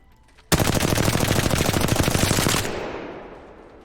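One sustained burst of rapid automatic gunfire from a light-ammo weapon in the PC game Apex Legends, loud and evenly paced for about two seconds, then a fading echo tail in a quiet background.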